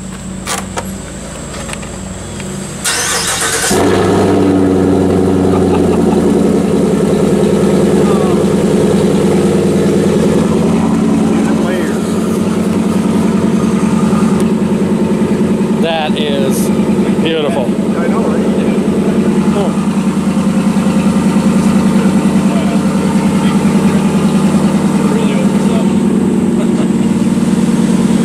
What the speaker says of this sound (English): Steve is going to give us a startup on the Yukon XL with his Corsa exhaust.